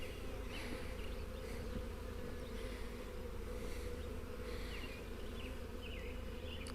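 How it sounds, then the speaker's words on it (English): A bee swarm clustered on a propane tank buzzes continuously outdoors, a dense steady hum of many insects close by with individual bees droning past. "Seem to be pretty calm bees."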